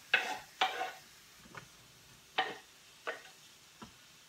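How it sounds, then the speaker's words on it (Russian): Chopped onion hits hot vegetable oil in a pan, giving six short bursts of sizzling and stirring that swell then fade, close and moderately loud, with quiet gaps between. "Добавляем сюда для жарки лук."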